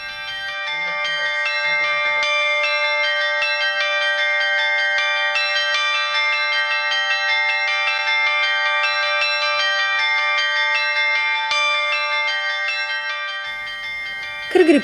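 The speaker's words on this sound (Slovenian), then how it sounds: "Pritrkovalci se pogosto učijo na miniaturne zvonove." Miniature practice bells struck in a fast, continuous ringing pattern, bright and metallic, sustained with little pause; a brief voice at the start.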